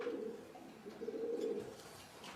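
Racing pigeons coo steadily in their loft, a continuous low, throaty murmur from several birds close by, with no other voices.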